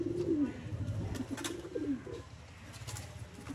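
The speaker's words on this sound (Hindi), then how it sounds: "सियालकोटी अली वाले कबूतर" Sialkoti pigeons coo softly and repeatedly in low, rolling calls, with faint chirps and ambient outdoor noise in the background.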